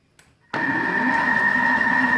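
A Thermomix kneading khobz dar bread dough kicks in abruptly after a brief quiet moment, then holds a loud, steady motor whir with a tonal hum.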